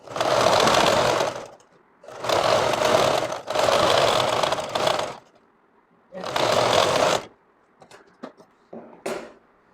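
A sewing machine stitches a salwar in four firm bursts of rapid, rattling needle motor, each a second or two long, separated by silence, followed by a few soft fabric handling clicks.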